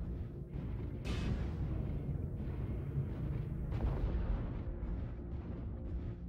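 Missile strikes landing in a multiplayer squad video game, a few deep, rumbling explosions that swell and decay over a constant low battle roar, moderately loud and somewhat distant.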